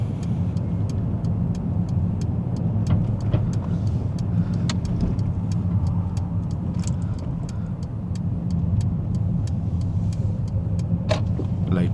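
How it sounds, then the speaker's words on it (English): A car pulling away in first gear on a Glasgow driving test route, a steady low engine hum with road rumble inside the cabin, fairly quiet, with faint small clicks over the top and no speech. "checking mirrors, first gear, slightly moving off"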